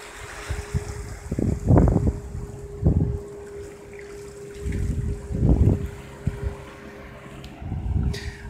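Boat ride across open water in Thailand, with engine rumble and water noise surging in several low swells, wind buffeting the microphone throughout, no voices.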